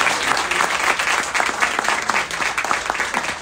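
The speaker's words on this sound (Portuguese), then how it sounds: "eu vou pedir que o povo aplaude o nome dele" A church congregation bursts into sustained, dense applause, many hands clapping together at close range with a steady, rapid texture and no pauses.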